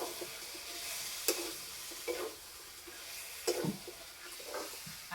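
Chicken curry meat cooking on low heat, a soft continuous sizzle with a few scattered stirring scrapes and squishy pops, close but fairly quiet, with no talking.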